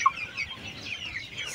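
Sonali chickens on a poultry farm cluck softly and continuously, a low scattered flock chatter with one brief sharper call at the start, fairly faint and without talk.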